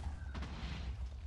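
Missile explosions in Minecraft Missile Wars: a brief, dense burst of low rumbling booms and crackling noise, steady and moderately loud with no clear talking.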